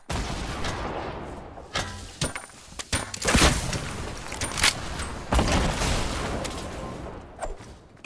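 Rocket blasts and gunfire from a Fortnite Battle Royale match, with several loud booming explosions and sharp cracks scattered across a dense, continuous mix of game noise.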